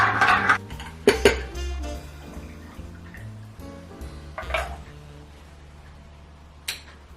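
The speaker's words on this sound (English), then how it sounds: "Just need to give a quick stir in order to bring a little bit of dilution." Ice and a Negroni of gin being stirred in a glass, bright clinks and rattles of cubes against glass and a bar spoon, clustered at the start then thinning to sparse taps, with no talk.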